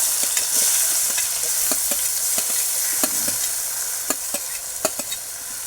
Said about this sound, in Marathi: आणि थोडंसं आपण परतून घेऊ